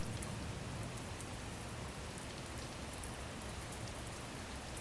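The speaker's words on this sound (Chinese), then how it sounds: "这是那天的雨。" Steady rain falls all around, a dense, even patter of drops hitting surfaces with no pauses and no voices.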